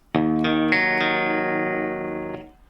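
A short distorted electric guitar phrase: a few quick picked notes stepping up, then one note sustaining and fading, loud and close.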